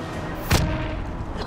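A single loud gunshot burst in the video game Call of Duty Modern Warfare, heard once over steady game background noise.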